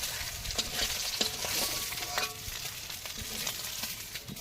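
Fish from a pond frying in a pan at an outdoor family picnic, a steady soft sizzle with scattered small crackles and pops, close and moderately quiet, with no talking.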